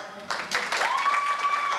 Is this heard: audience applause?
yes